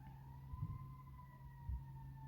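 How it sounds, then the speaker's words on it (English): An ambulance siren passes outside on a rainy day, a faint, distant steady wail over a low rumbling background. "apparently people out here doing the most because the ambulance keeps going and all of that"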